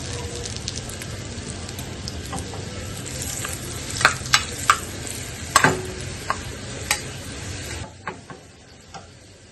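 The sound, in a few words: dried red chillies frying in hot oil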